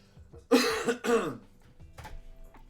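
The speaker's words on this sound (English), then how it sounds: "Sorry about the coughing, everybody." Two harsh, loud coughs in quick succession, followed by a softer throat-clearing cough, close to the microphone.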